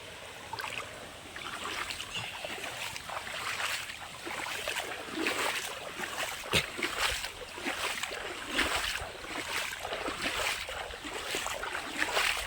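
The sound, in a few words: water flowing in a village canal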